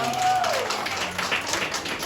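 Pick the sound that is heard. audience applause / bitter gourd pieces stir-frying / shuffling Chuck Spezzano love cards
audience applause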